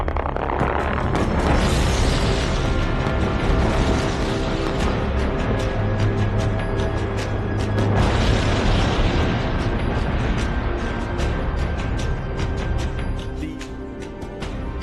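A mine blast explosion gives a long, loud, sustained roar with a second surge partway through, dense rumbling and crackling debris continuing throughout before easing slightly at the end, with no voices.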